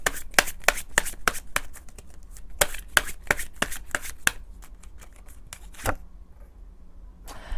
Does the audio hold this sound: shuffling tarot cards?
yes